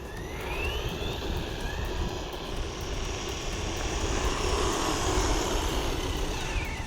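A brushless 1/12 scale 4x4 RC truck speeds along with a steady high-pitched electric motor whine and a whirring drone that builds slightly and then holds for several seconds, with no talking.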